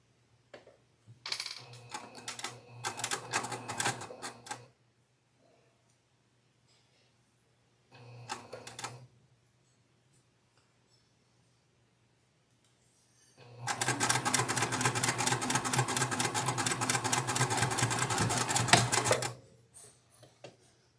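A sewing machine stitching a quilt block runs in rapid mechanical bursts: two short runs near the start, a brief one in the middle, and then a longer, louder steady run with quiet gaps between.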